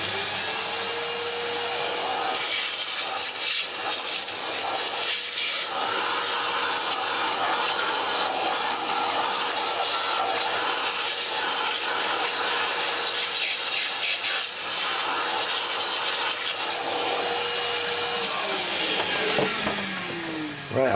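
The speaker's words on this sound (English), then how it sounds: "Yeah, vacuum." Vacuum cleaner running in a workshop during engine work, a loud, constant whine and airy rush that carries on steadily for about twenty seconds, shifting a little near the end, with no talk.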